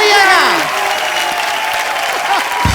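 Studio audience applause fills a comedy show stage, a steady dense clapping that runs loud throughout, with a host's voice speaking over it at the start.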